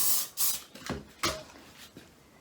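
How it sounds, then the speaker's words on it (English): Hairspray sprayed over backcombed sections of blow-dried hair, heard as several short hissing bursts of varying length, close and fairly loud, with soft handling noises between them. "then of course I need to spray it just to make sure it's cured there"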